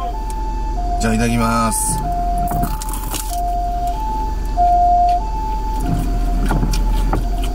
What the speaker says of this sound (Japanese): あ、救急車。